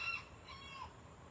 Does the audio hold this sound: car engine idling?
no